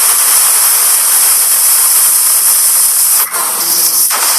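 A pressure cooker cooking spinach dal whistles in a loud, steady, high steam hiss that runs almost unbroken. It dips briefly near the end, then returns.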